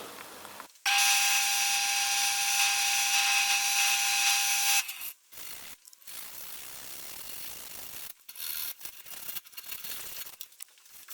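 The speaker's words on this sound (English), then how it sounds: "So I'll sand the outside of it and apply a first coat of oil on it" Sandpaper pressed against the spinning outside of a natural-edge cherry bowl on a wood lathe gives a loud, steady, bright hiss for about four seconds, followed by quieter intermittent rubbing and short scuffing passes.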